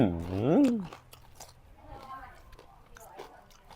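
Crispy pork is bitten and chewed with close crunching. A voice speaks over the start, then the crunchy chewing continues quietly on its own.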